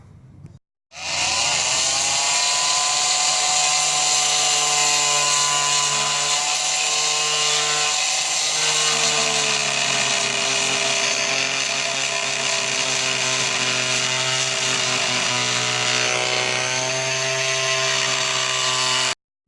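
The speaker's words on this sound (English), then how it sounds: "I've cut off the tops with my little reciprocating saw, I guess you'd call it, or whatever" A small handheld reciprocating saw cuts off wooden plugs on a deck box, a loud continuous high buzzing whine that starts abruptly after a brief pause and runs unbroken to the end, with no talking.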